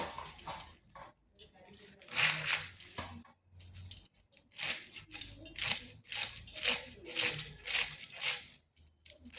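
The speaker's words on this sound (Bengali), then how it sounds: "এরপর বাঁধাকপিটা কেটে নেব।" A kitchen knife slicing through a head of cabbage on a board for a vegetarian dish, producing a run of crisp, close cutting crunches in uneven bursts, with faint household noise in between.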